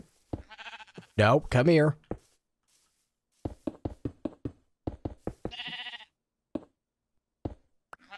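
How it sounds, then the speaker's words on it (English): Sheep in Minecraft vanilla 1.14.3 let out a loud, wavering bleat followed later by a second, shorter one, with a player talking and sharp clicking taps in between. "Here, sheepy sheep."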